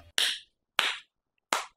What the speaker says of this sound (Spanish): Deja de aplaudir.